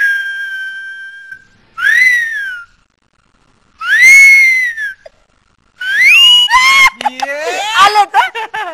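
Alternating whistles from a person and a second performer imitating them in a classic Marathi suspense stage drama: rising and falling tonal whistles in separate bursts, close and loud, ending in rapid trilling warbles, with no talk.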